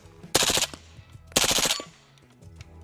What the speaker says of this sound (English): Just give her a full-on mag dump.